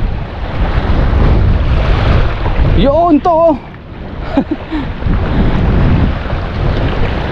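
Strong wind roars across open sea near a fishing net trap, a loud continuous rush with surf mixed in, while someone speaks briefly in the middle.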